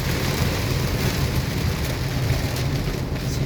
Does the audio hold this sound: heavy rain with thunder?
yes